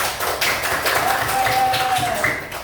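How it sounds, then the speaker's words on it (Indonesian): A grade 5 classroom of pupils clapping together during an Islamic religious education lesson, a dense steady patter of hand claps filling the room with a faint tone and some voices mixed in. "Tepuk tangan semuanya."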